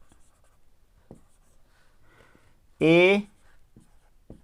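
Hand-writing a math derivative on a board or paper, faint soft scratching strokes in a quiet room, broken by one brief spoken syllable.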